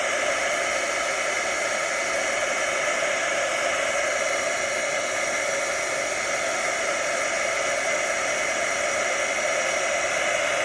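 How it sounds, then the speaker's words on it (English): A craft heat tool blows hot air to dry a watercolored daisy card, a loud, constant whooshing drone that holds steady and unbroken throughout. "I'm gonna go ahead and grab my heat tool, and I'm gonna give it a little help"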